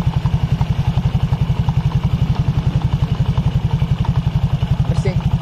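Honda Vario 150 scooter engine running with the rear wheel held still, a loud, rough, rapid pulsing rumble with a steady rhythm, close up and continuous, with a brief faint sound near the end.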